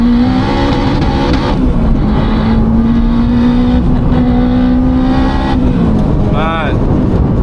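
A big-turbo Honda Civic Type R engine of about 500 horsepower revs hard and climbs through the gears, rising pitch sweeps repeating as it accelerates, loud and close from inside the cabin.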